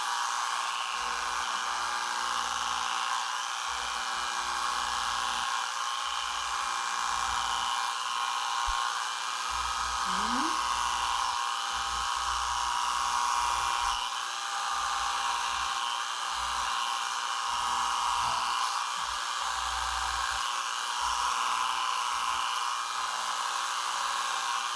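An electric hair clipper buzzes continuously while shaving a head, a steady close drone with slight variations as it moves over the scalp, no talk.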